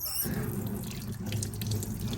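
Water pours from a tap in a steady, close rushing stream that continues without a break, heard alone.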